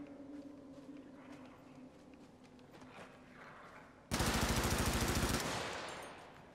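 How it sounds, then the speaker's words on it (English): Video game gunfire arrives as a sudden loud burst of rapid bullet shots, an automatic rattle lasting just over a second before fading, after a stretch of quieter background game ambience. "Don't you hear those bullets?"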